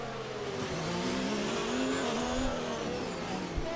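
Alfa Romeo F1 race car engine lapping Monaco in the F1 2019 video game, a continuous loud engine tone rising and falling through gear changes for the whole stretch, with a brief thump near the end and no talk.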